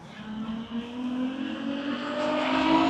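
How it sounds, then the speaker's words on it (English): On Mission Boulevard a racing car roars past, its engine note climbing steadily as it accelerates, growing louder and close by toward the end. "That was somebody racing on Mission Boulevard"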